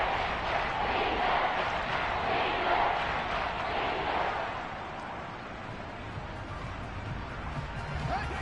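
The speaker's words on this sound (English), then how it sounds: "The crowd getting into it as we come up on a big third down." Big football stadium crowd roaring ahead of a crucial third down, a dense and steady wall of cheering that dips partway through and then rises again.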